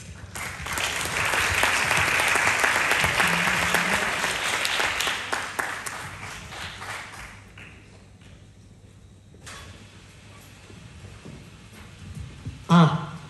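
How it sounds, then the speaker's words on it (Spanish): Applause from the audience at an end-of-year music gala, a loud burst of clapping that swells and then fades away over several seconds, leaving quieter room sound and a voice before a final thump. "Así que un fuerte aplauso."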